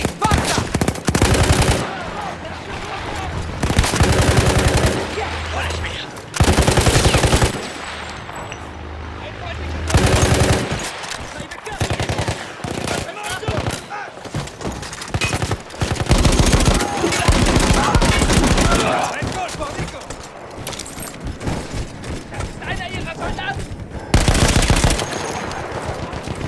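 Machine gun fire in the Battlefield 1 World War I game, Italian front: loud sustained bursts, several long volleys and repeated shorter bursts, with a dense, busy backdrop of gunfire between them.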